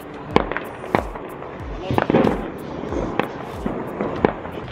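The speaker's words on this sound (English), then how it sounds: "Oh, look at the pretty Diwali decorations and the fireworks." Diwali fireworks in Jaisalmer go off in a string of sharp, loud cracks and bangs at irregular intervals, with crackling bursts between them and people audible in the background.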